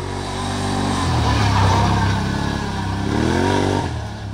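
A 2024 Can-Am Outlander 1000R XT-P ATV with a 1000cc engine accelerating nearby, a loud continuous engine drone that climbs in pitch, dips briefly and rises again.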